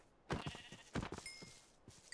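Sheep bleats from the Minecraft video game, two short wavering calls close together followed by a fainter third, heard alone and moderately loud.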